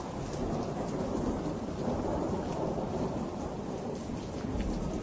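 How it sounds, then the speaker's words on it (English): Steady rumbling thunder during a storm, rolling continuously with rain hiss and no clear break, loud and broad throughout. "That's why we see lightning occurs before the thunder sound."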